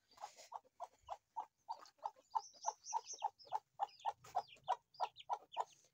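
An Aseel rooster in its pen gives a steady run of short, rhythmic clucking calls, about two or three per second, close and fairly clear with no talking.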